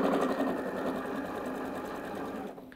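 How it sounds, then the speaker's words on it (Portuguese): A sewing machine runs at a steady, fast whir while stitching satin bonnet fabric pieces, loud and close throughout before cutting off at the end. "o seu trabalho na máquina de costura para costurar aqui essas duas partes é apenas movimentar os tecidos"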